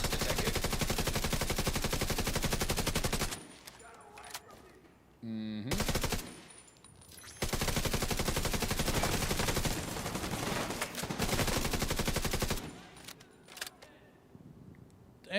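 Gunfire and a grenade in The Division 2 video game: dense, loud bursts of rapid automatic fire come in long stretches, broken by quieter gaps and a short sharp blast, with voices faintly in between.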